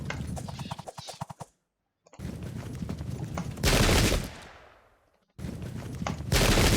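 Musket volleys from shot units firing into pike ranks in the Pike and Shot Campaigns strategy game, Germans against Swiss: crackling rapid reports, a sudden silence, then a loud roaring volley that fades and returns.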